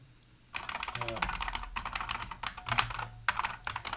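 Typing on a computer keyboard in bursts of rapid, fairly close key clicks with short pauses between runs; a faint voice is briefly heard under the clatter.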